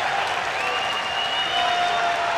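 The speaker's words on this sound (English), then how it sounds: "The crowd is going crazy." A Boston track meet crowd roars and applauds in a dense, continuous wall of cheering that swells slightly toward the end, loud and close throughout.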